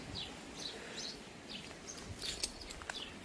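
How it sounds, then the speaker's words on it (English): House sparrows chirp from a hedge in a garden, a quick series of thin high chirps and tweets repeating every half second or so, faint and somewhat distant over a soft outdoor hiss. "That's the house sparrows in the hedge there."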